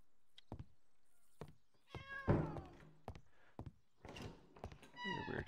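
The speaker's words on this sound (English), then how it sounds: "Hey, kitty. Wait, why are you growling?" A cat in the video game Traveller's Rest growls and meows in several short, clear calls separated by quiet gaps, with thunking game sounds in between.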